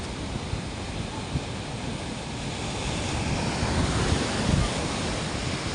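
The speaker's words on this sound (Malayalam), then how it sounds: "കലങ്ങി മറിഞ്ഞിട്ടാണ് കടലുള്ളത്" A rough, churning sea roars as a broad, continuous wash of surf, loud and close with wind buffeting the microphone, and no one speaks.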